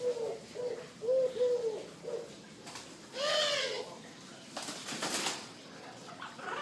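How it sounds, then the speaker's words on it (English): Pigeon in a greenhouse aviary cooing in soft repeated phrases at moderate distance, a few low hoots followed by a longer warbling call, with faint rustling and brief noise bursts around it. "A pigeon that's really nice."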